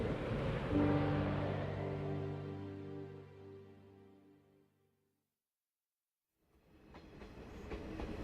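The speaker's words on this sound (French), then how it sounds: "Voie numéro 3, arrivée du train en direction d'Ashikaga Maebashi et à destination de Takasaki." A train arriving at a snowy station platform, with a loud sustained tonal rumble and screech that fades to near silence before faint rolling noise returns.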